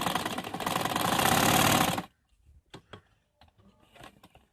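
About two seconds of a sewing machine's fast, rattling run while stitching a ladies' suit collar, loud and close, followed by faint clicks and handling noises.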